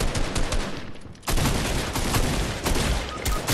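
Shotgun blasts ring out in a Fortnite Battle Royale match, loud and close, several shots coming in quick bursts with a brief lull partway through and no one speaking.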